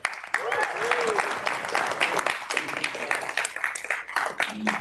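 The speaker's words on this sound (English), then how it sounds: "huge applause for the programming board" An audience at a San Francisco demo day event bursts into dense, sustained applause for the programming board, many hands clapping at once with faint voices and cheers mixed in.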